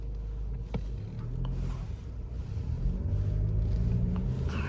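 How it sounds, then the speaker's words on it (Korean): A Mercedes-Benz diesel car engine runs with a steady low exhaust rumble close by, holding a constant deep drone with faint clicks and slight swells throughout. "배기음 소리가 좋아."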